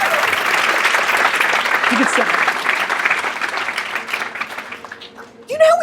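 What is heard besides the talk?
audience applause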